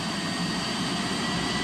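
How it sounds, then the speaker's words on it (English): Alouette III helicopter in the X-Plane 12 flight simulator, its rotor blades spooling up as a steady, dense turbine roar and whine that fills the whole stretch at a constant loud level. "The inertia of the rotor blades spooling up is actually shaking the helicopter"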